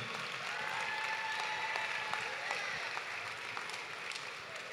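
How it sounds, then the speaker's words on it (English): Sustained applause from a crowd, steady clapping throughout without a break. "So one last round of applause for these amazing people."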